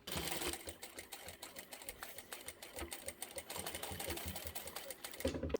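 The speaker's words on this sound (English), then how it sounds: "So we've got a straight line going across there, and that's what we're going to stitch." A sewing machine runs a straight seam across the boxed corner of a small bag, with rapid, close needle clatter throughout the short stretch before stopping abruptly.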